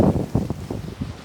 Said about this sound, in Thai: ลมหนาวขนาด